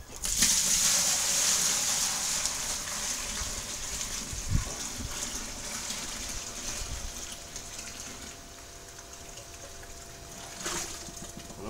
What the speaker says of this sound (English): Ready just to put the first lot of runnings into my boil pot.